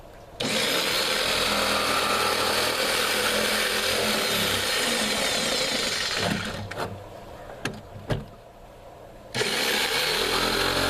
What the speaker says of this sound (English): Notice that I'm turning the saw on and off so that I don't damage